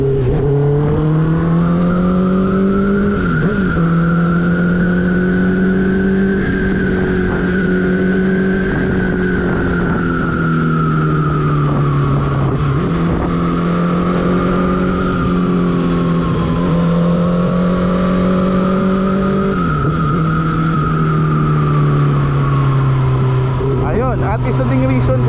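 Honda CB650R four-cylinder motorcycle riding and overtaking, a loud continuous engine drone whose pitch rises and falls with throttle changes, with the rider talking over it now and then.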